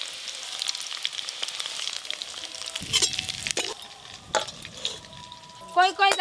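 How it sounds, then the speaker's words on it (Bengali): Paneer pieces fry in a pan during festive Mahashtami cooking, giving a steady sizzle with stirring and utensil clinks and scrapes. A few louder knocks come near the end, and the frying continues without talk. "পনিরগুলো খুব ভালো করে ভাজা হয়ে গেছে তুলে নেব"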